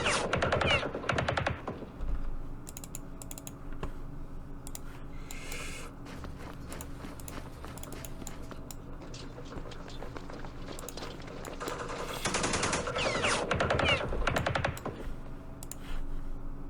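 Bursts of machine gun fire in a Campaign Series Middle East wargame battle for Jerusalem, dense rattling volleys at the start and again near the end, with quieter clicks and faint background noise in between.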